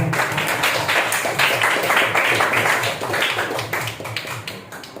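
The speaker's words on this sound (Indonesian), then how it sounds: "Tepuk tangan dulu untuk Ibu Mira." Audience applause at a children's first-aid training session at a health clinic, loud and dense clapping from many hands that fades slightly toward the end.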